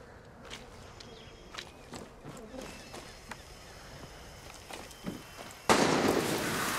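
Gunfire in the Far Cry 6 video game: scattered sharp cracks at a distance over a low ambient bed, ending in a loud, sustained burst of noise close by.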